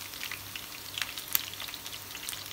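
Chicken 65 pieces frying in hot oil, a steady crackling sizzle with scattered pops, fairly close and moderately loud, with no talking.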